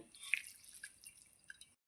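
Water dripping from leafy greens squeezed by hand, a faint, close patter of small drops with a few brighter splashes, alone and without talk.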